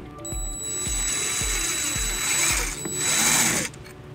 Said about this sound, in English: we're just gonna use a 3/16 drill bit, and we're gonna use the bracket as a template to drill